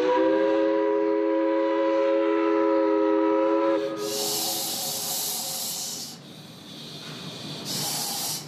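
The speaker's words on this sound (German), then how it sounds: "Ein Ausflug mit der sächsischen Dampfschifffahrt." A Saxon paddle steamer sounds its steam whistle, a loud chord-like tone held for several seconds, then bursts of steam hiss out in two loud surges with a quieter gap between them.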